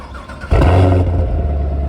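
Chevrolet Camaro SS convertible fired up by remote start: quiet surroundings, then a sudden loud crank and catch, a brief rev flare, and the engine settling into a deep steady idle close by.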